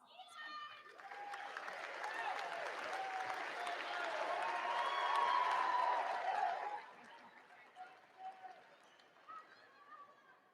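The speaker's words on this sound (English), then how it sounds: "let's thank you with a round of applause" A high school graduation audience breaks into broad applause for the graduates' families, swelling over several seconds and then tapering into scattered claps and murmuring crowd chatter.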